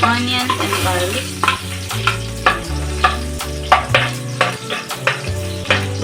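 Onions and garlic sizzle in a kawali previously used for frying fish, with a steady crackle broken by rhythmic stirring scrapes and clinks, close and fairly loud.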